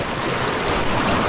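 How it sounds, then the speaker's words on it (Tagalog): Strong river current and rushing waves churn in a loud, dense wash of turbulent water close to the microphone, steady with no gaps. "Lakas yung alon. Alon yung agos."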